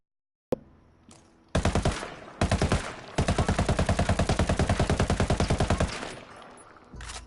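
MDR rifle firing in a video game: a loud single shot, then several sustained bursts of rapid automatic fire, the last a long unbroken string of evenly spaced shots, with no talk.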